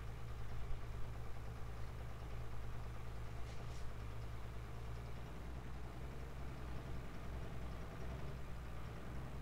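The Scheid Diesel Dragster, a top diesel class drag racer, runs in the distance at a drag racing event, giving a continuous low engine rumble at steady level with no speech.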